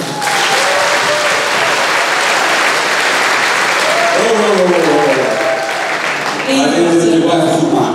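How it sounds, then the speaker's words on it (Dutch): Audience applause fills a mavo diploma ceremony at Hoeksch Lyceum, a loud, steady wash of clapping throughout, with a voice speaking over it near the end. "Maar wel af en toe rond met een applaus voor de herinnering."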